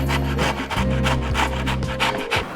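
Rhythmic rasping of beetroot being grated, repeated strokes in steady succession, close and fairly loud, with a low hum running underneath.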